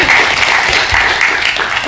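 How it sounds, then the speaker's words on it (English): Audience applause for Arthur at a live podcast-style talk event, a short, loud burst of close clapping. "Oh, round of applause, please, for Arthur."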